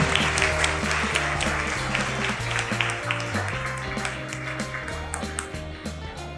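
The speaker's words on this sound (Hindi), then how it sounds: "जोरदार तालियां।" Applause at a school awards ceremony honouring SSLC toppers in Raichur, a dense patter of clapping mixed with steady, sustained musical tones throughout.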